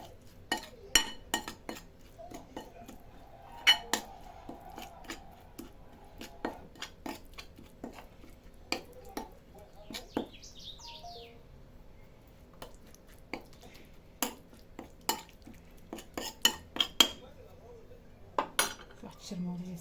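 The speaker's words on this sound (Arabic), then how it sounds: "باش نذوب هاد الملح ونخلط هاد التوابل" Salt and spices being mixed in a bowl: a long run of sharp metallic clinks and scrapes from a spoon against the bowl, coming in irregular bursts at close range over a quiet background.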